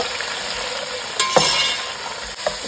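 Chopped tomatoes frying with whole garam masala for mutton raan biryani: a dense, steady sizzle close up, with a couple of brief stirring scrapes partway through.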